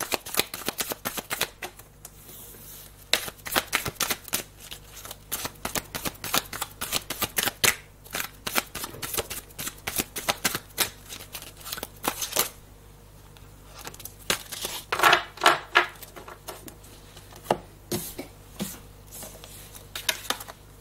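Playing cards are shuffled and dealt over and over at close range, a dense run of riffling flutters and sharp flicks with brief pauses between bursts; a voice speaks only faintly, if at all.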